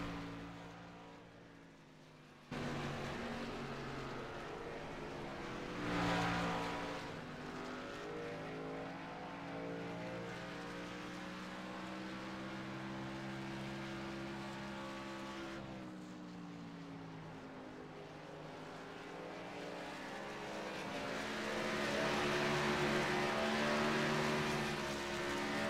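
Race cars running on a track, their engines droning continuously with harmonic tones that rise and fall as they accelerate and pass, loud and sustained throughout without speech.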